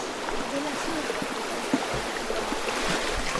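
River water flows steadily at a river crossing near Blue Waterfalls and Lipit Canyon, a constant broadband rushing with small splashes, fairly close.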